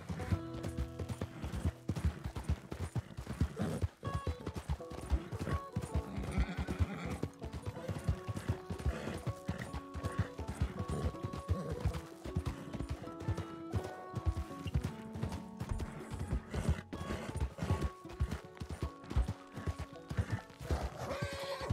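A donkey's hooves clop in steady rhythm in Red Dead Redemption 2, with a whinny-like bray, creaking tack and a dense backdrop of game music and ambience throughout.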